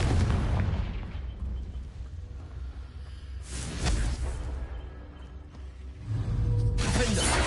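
A Confringo blasting spell explodes in a Hogwarts video game, setting off a series of heavy booming blasts with crackling bursts in a dense, loud battle that rises and falls in waves.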